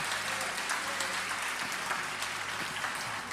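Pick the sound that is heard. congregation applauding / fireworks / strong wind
congregation applauding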